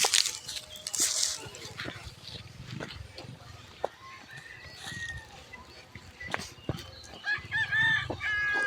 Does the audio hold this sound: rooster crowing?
yes